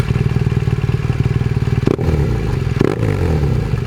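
A BMW R1200 GS motorcycle fitted with a Remus 8 exhaust idles with a steady, close, throaty burble, broken by a couple of quick throttle blips.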